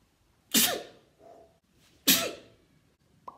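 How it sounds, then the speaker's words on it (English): Two forceful, close sneezes spaced about a second and a half apart after a dose of snuff, each a sharp explosive burst followed by a brief breathy tail. "I'm sneezing for my life here."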